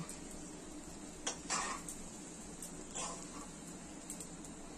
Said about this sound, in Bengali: ডালটা দেওয়ার পর এটাকেও আমরা ভালো করে একসঙ্গে মিশিয়ে নেব